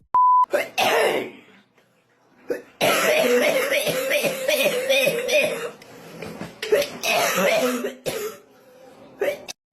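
A short electronic beep, then harsh repeated coughing and throat clearing in bursts, close by with breathy pauses between fits.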